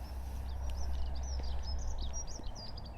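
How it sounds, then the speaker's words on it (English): Birds sing and chirp in a series of bright calls beside Skippool Creek, fairly faint over a low rumbling background of wind or distant traffic, with no voices. "Just listen to these birds, they're gorgeous."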